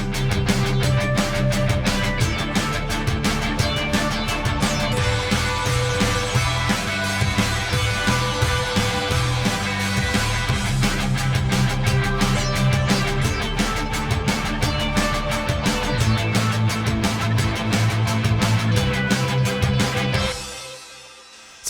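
A dense hybrid rock track with drums, bass and layered synths runs loud and continuous, processed with iZotope Stutter Edit 2, then cuts off abruptly at the end.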